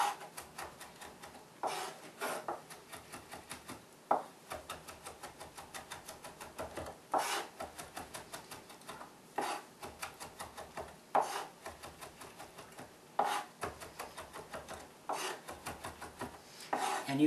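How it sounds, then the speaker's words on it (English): A kitchen knife rocks back and forth over garlic on a cutting board, giving a steady run of quick, close tapping chops in short repeated bursts with brief pauses between. "you're going to go ahead and rock your knife back and forth like this"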